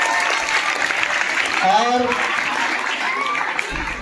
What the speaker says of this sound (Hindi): सबसे पहले तो सर का जोरदार तालियों से स्वागत करेंगे